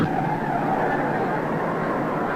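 An Indianapolis 500 race car skids with a sustained, harsh tire scrub and engine roar, loud and continuous, as its front axle gives way; a commentator's voice runs underneath.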